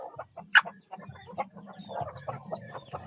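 A brooding hen clucks in a series of soft, close clucks, with one sharper, louder squawk early on and a low murmur running underneath.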